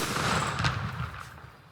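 A calcium carbide pipe cannon goes off for Diwali, a single muffled blast with a broad burst that decays quickly into rumbling noise.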